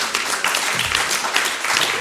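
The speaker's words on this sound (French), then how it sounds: "je vous demande de l'applaudir très fort" Audience applause at a French legal colloquium on lies and truth in defence work, a dense steady wash of clapping filling the short moment, moderately loud with no voices over it.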